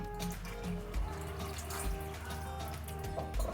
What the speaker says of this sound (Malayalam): തേങ്ങാപ്പാൽ ഒഴിക്കണേ.